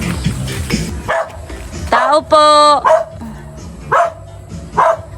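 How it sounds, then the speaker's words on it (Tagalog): A dog barks several times in short sharp bursts at a house visit, close and loud, with people talking over and between the barks. "At may aso."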